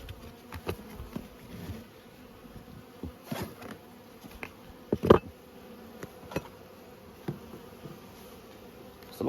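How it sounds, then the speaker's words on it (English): Bees feeding on sugar syrup at a hive feeder buzz in short, intermittent bursts as individual insects fly close past, with one loud near pass partway through, over a quiet outdoor background. "They're into that sugar syrup, they don't muck around, they're just straight into it, sucking it up."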